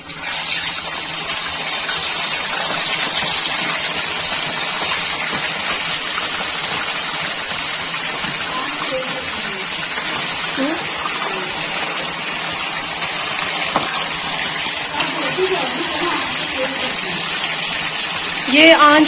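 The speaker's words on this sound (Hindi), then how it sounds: "ये आंच तेज रखनी है आपने और ये फ्राई कर रहे हैं हम चिकन को" Chicken pieces frying in a cup of oil over high heat in a karahi, giving a steady, dense, loud hiss that runs unbroken throughout, with faint voices now and then beneath it.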